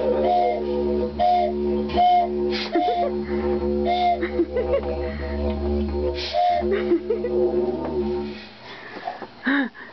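Toy whistle blown repeatedly by an adult in short, breathy toots with gaps between them, close to the listener, with faint giggles and vocal sounds mixed in.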